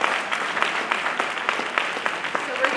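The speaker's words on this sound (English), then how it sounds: "Can we have another round of applause for Gerald?" Audience applause fills a lecture hall at an anniversary event on Palestine and justice, steady clapping with scattered sharper claps running throughout at moderate loudness, no voices over it.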